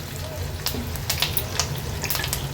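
Mustard seeds, cumin, curry leaves and asafoetida spluttering in hot oil for a grated red pumpkin stir-fry, a dense close sizzle dotted with quick sharp pops and crackles.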